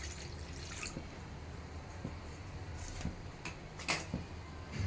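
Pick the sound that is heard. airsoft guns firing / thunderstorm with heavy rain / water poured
water poured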